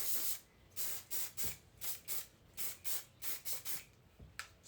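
A spray bottle pumped in quick bursts, about a dozen short hissing sprays with brief pauses between, close and clear with no talking.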